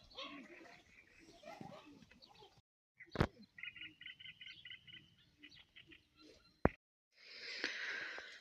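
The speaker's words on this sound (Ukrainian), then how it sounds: "Співають пташки, пострибує тюлька." Small birds sing by a pond in the quiet evening, scattered chirps and a run of rapid repeated notes at moderate distance, with a voice talking early on and a couple of sharp knocks.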